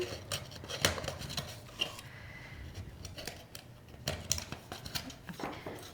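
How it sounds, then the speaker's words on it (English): Titanium scissors snip through an aluminum can, giving a few sharp, close metallic clips and crunches spread over several seconds in a quiet room. "I have titanium scissors just for this purpose"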